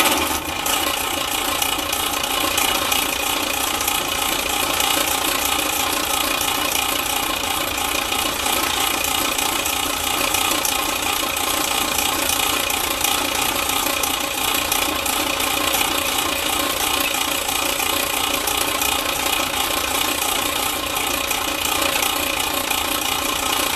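An oiled metal lathe trims the end of a spade bit extension, giving a loud, continuous, unbroken mechanical drone with a steady rattling whir and no pauses.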